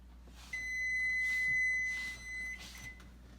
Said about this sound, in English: Okay, timer just went off.